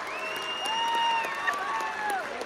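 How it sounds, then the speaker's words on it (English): At a Scottish Cup final won by Cumnock Juniors, a distant stadium crowd keeps up steady applause and cheering, with a sustained whistle-like tone riding over the broad roar. "Listen to that cheer for the big man."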